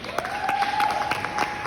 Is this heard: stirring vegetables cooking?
no